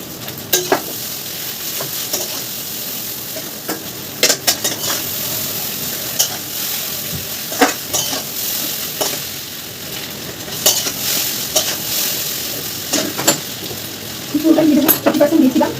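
Chow mein being stir-fried in a pan under a constant loud sizzle, with sharp clacks of a utensil scraping and striking the pan at irregular intervals and a brief louder clatter near the end.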